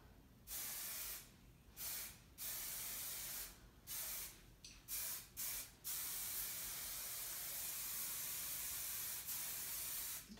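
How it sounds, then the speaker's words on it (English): A hairspray can sprays in several short hissing bursts, then one long continuous spray that fills the rest of the clip, close and fairly loud. "Don't be afraid to spray."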